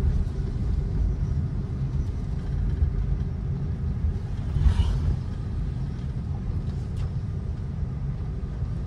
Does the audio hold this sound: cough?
no